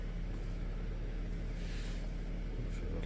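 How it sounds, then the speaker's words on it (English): Ford FG2 Falcon engine idling steadily, a low continuous hum with a faint higher whine, heard close and unchanging throughout. "she's idling back to normal."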